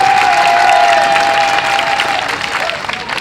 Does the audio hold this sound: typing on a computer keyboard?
no